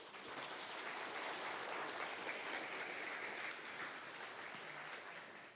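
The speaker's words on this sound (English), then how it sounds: "Round of applause again," Sustained applause from a conference audience at a drone autopilot developers' gathering, steady and full for several seconds, then tapering slightly at the end.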